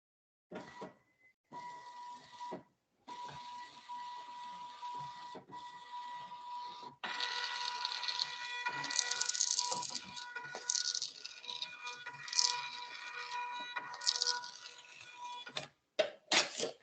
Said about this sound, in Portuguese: Se eu fizer o mesmo processo com o feed, ele vai imprimir um relatório de qualidade.